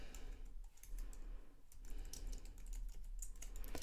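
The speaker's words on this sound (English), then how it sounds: "I'm going to type in Parents Magazine." Steady, close keystrokes tap out on a computer keyboard in quick, uneven bursts of soft clicks, with brief pauses between words and no voices.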